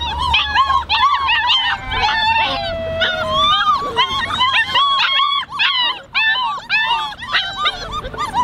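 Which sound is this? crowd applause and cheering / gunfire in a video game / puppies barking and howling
puppies barking and howling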